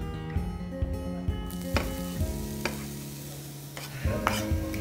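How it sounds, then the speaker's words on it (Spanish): Chopped onion sizzling in oil in a preheated frying pan, a quiet steady crackle broken by several sharp scrapes and clinks of stirring. "Vamos a agregar aceite y vamos a agregar la cebolla."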